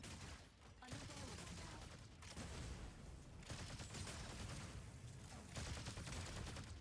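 Ghost cannon fire from giant robot mechs in the Mecha Break video game, heard as dense continuous bursts of blasts and booms that roll on without pause, with no talk.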